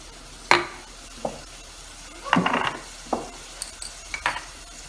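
Cumin seeds and spices for egg curry hit hot oil in a pan, giving brief sizzling bursts mixed with a few sharp clinks of a spoon against the pan, close up.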